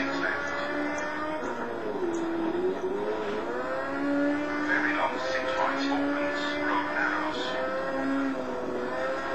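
Rally car engine from the WRC 4 video game, a Junior WRC car on the ADAC Rallye Deutschland stage, droning steadily at high speed with pitch rising and dipping through gear changes, loud and continuous throughout.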